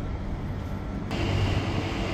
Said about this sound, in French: Voici le train qui va me mener en Slovaquie.